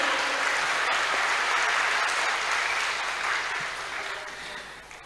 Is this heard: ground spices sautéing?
no